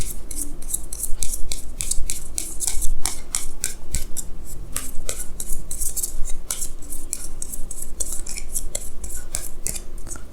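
Tarot cards are shuffled and drawn by hand in a close, quiet room, giving a steady run of crisp papery slaps, flicks and riffles throughout, loud and near with no talking.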